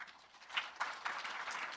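An audience at a lecture on communication culture gives a brief round of applause: scattered, fairly soft clapping that swells slightly over under two seconds.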